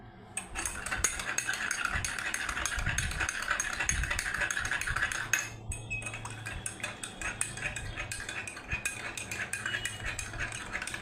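Turmeric being stirred into two containers, a busy run of metallic clinks and rattling scrapes from a spoon against the vessels, close and fairly steady, pausing briefly midway before continuing.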